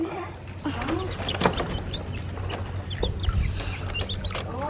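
Chickens cluck and squawk in short scattered bursts while being fed by hand in a backyard beside a coop under construction, with a steady low hum underneath and no talk.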